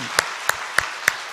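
A church congregation at an early-morning prayer service claps in unison, with four sharp, evenly spaced claps in quick succession.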